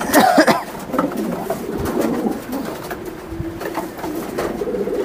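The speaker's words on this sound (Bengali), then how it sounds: "কবুতরটা খুবই একটা ফার্স্ট ক্লাস একটা কবুতর" Racing pigeons in a loft cooing nearby, soft repeated throaty coos with rustling and handling sounds, under low background chatter.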